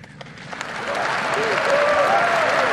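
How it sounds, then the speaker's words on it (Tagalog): Spectators in the gallery of a legislative session burst into applause. It starts fairly thin with a few scattered claps and swells into a dense, sustained clapping, with voices faintly audible through it. "ba't kayo pumalakpak?"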